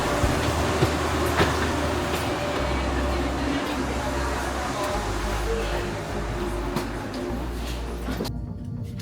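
A Trenitalia Frecciarossa high-speed train pulls away, heard from onboard as a steady low rumble with faint rhythmic clatter, while a voice speaks over it and the sound cuts off abruptly at the end.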